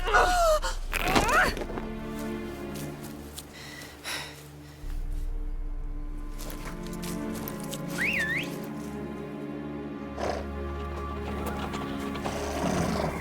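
Horses in The Witcher 3, with a whinny and whistling-like calls over a steady low game soundtrack, the horse sounds brief and mid-distance among background music.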